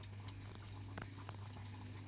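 Water is drawn through the cotton of a skimmer filter in a shrimp tank, giving a faint, steady bubbling and trickling over a constant low pump hum, with no voices.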